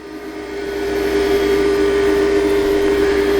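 A wood lathe spinning at about 3,000 RPM while a pen is turned with very small light cuts, producing a steady loud hum with a constant tone that builds over the first second and then holds evenly, no talking.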